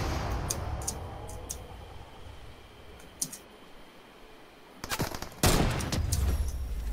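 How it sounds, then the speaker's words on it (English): Gunfire in the Fortnite video game: a few sharp shots early on, then a loud burst of firing near the end, with clicking between. "That's a kill shot for me"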